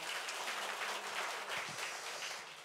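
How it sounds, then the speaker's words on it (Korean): A congregation applauding during a church service, producing a short, fairly faint burst of steady clapping that tapers off near the end. "우리 다시 한번 박수하겠습니다"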